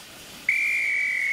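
A railway guard's whistle before a steam train departs: one sharp, loud, steady high-pitched blast that begins partway through and holds to the end, with a quiet background.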